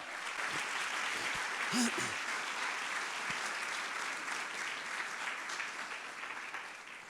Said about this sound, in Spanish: Denle una ofrenda de palmas a ese Dios que transforma.